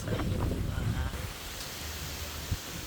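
Gusty wind buffets the microphone with a low rumbling roar, strongest at first, then a steadier whoosh; faint voices sit underneath.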